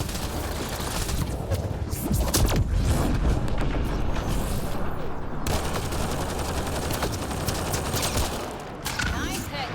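Dense gunfire in a sci-fi shooter video game, rapid bursts and booming shots layered continuously over nearly ten seconds, loud and close, with voices talking beneath the shooting.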